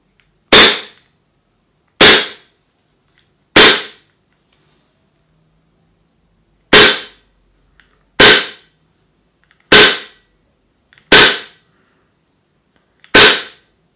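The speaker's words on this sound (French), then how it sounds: "On va tirer avec réducteur de son." A Tokyo Marui HK45 Tactical airsoft pistol fitted with a suppressor fires eight sharp, close shots spaced one to three seconds apart, each a crisp snap with a short decay, in an otherwise silent room.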